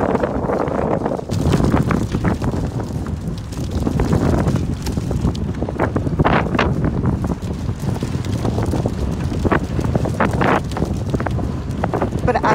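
Strong wind roars steadily outdoors across a tornado-damaged town in Mayfield, Kentucky, near a wrecked candle factory. It is loud, gusting, and buffets the microphone continuously with low rumbling throughout.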